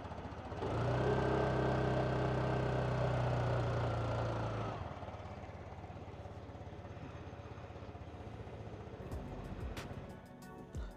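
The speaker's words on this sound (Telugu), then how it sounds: "ఇది దీని ఇంజన్ సౌండ్" A 2024 TVS Jupiter 110 scooter engine starts and runs loudly for a few seconds, then settles into a steady, softer idle hum with faint clicks near the end.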